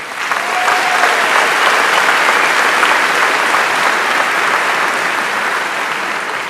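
A large audience at the Missouri Boys State closing ceremony applauds steadily, a thick, even wash of clapping that holds at full strength throughout.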